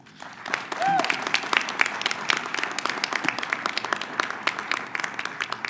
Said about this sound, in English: all of us, please give us a warm round of applause to Darlene and Jeff for all they do.